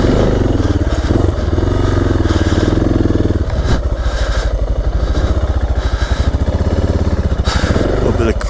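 A motorcycle engine on a single-track trail revs hard and steadily with the clutch slipping, a loud continuous near drone with rapid rhythmic pulsing throughout.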